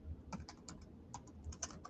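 Quiet, irregular keystrokes tap on a computer keyboard in short bursts of soft clicks, close by and with no voices.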